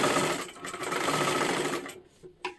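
A sewing machine stitching piping onto a tucked blouse, running in a steady, close mechanical whir that slows and stops, followed by a couple of brief clicks.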